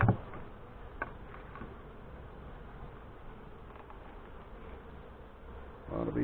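Honey bees drone steadily during an open hive inspection, a dense continuous buzz from many insects close by, with a few brief knocks and handling noises at the start and end.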